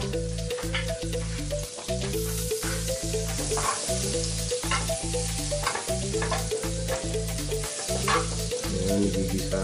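Onion sautéing in a hot pan while homemade salmon is cooked, a loud, steady sizzle and frying crackle with repeated stirring scrapes, close up and without voices.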